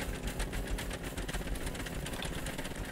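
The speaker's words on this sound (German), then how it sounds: "Mal rausfinden, welcher Motor das ist." Motor running in the building game Scrap Mechanic, a modded engine in a test rig, giving a steady close buzzing, rapidly pulsing drone that continues without a break and without speech.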